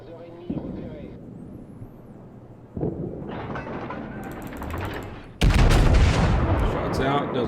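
Guns of the French battleship Dunkerque in World of Warships, heavy booming salvos rolling in with a deep rumble, swelling to a loud blast near the end, with a voice talking over the action.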